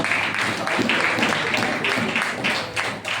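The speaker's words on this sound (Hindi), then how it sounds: "आइए जोरदार तालियों के द्वारा" A congregation at a Sunday church service breaks into sustained, dense applause, many hands clapping together loudly and continuously for the whole stretch.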